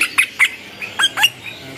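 A rosella parrot squawks in a string of short, harsh calls, about seven bursts in quick irregular succession, close by and loud, at a bird market in Jakarta.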